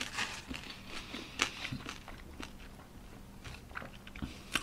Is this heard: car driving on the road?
no